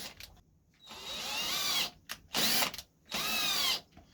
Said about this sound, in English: The drill's just a quick and easy way